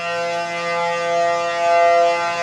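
A World War II-era air raid siren, now part of the Pacific tsunami warning system on Maui, wails in a sustained, loud, tonal drone that swells slightly as it rotates, with no one talking.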